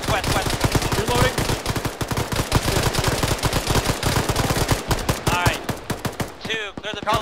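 Rapid automatic gunfire rattles in dense, continuous bursts during a military shooter game in Arma, loud and close, with a voice briefly audible under the shooting.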